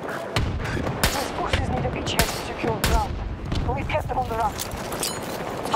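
Gunfire and explosions from a Battlefield video game firefight, with rapid shots, bursts and booms cracking out repeatedly throughout, mixed with battle noise and voices talking under the shooting.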